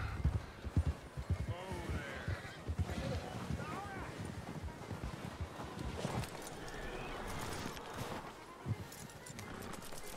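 Horse hooves clop steadily in Red Dead Redemption 2, mixed with horse snorts and whinnies over wind and ambient game sound, with voices talking throughout.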